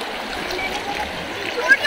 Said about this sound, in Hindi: ऐसे पानी आ रहा है